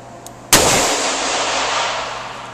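A single Smith & Wesson gunshot cracks out loud and sharp after a short quiet stretch, then rolls into a long, sustained echo that decays slowly through the rest of the moment.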